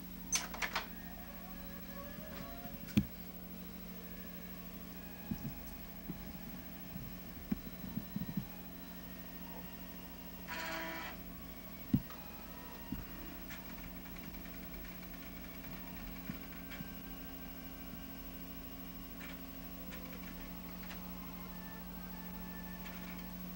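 An old 386 computer powering up: a steady low electrical hum runs throughout, broken by scattered small clicks and one short burst of drive-like mechanical noise midway, with no one talking.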